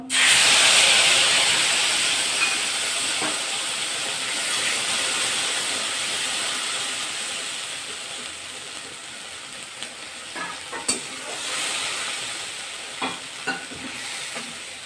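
Chillies and ground mustard paste frying in a pan for parshe fish, with a loud hiss at first that settles into a steady sizzle, broken later by a few spoon scrapes and clinks.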